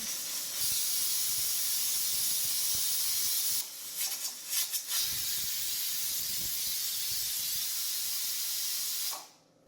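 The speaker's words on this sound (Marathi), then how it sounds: "तर या ठिकाणी कुकरच्या दोन शिट्ट्या झालेल्या आहे" Prolonged steam hiss escaping under pressure from a pressure cooker, steady for several seconds with a sputtering break midway, then cutting off abruptly.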